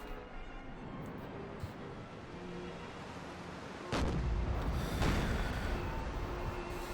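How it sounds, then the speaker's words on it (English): Smoothbore cannons fire in a naval battle in the video game Empire Total War, two heavy booming shots a second apart standing out over continuous battle rumble. "what are you looking for with smoothbore cannon fire, I suppose?"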